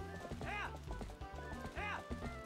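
Goats running in the video game Zelda Twilight Princess, with a quick patter of hooves and two wavering, bleat-like animal cries rising and falling about a second and a half apart.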